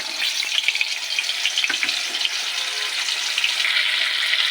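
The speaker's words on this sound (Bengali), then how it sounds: "এবার মাছটা দিয়ে দেবো কড়াইতে তেলের উপর," Tilapia fish rubbed with salt and turmeric goes into hot oil in a wok, setting off a loud, close, continuous sizzle and crackle with small pops that stays steady.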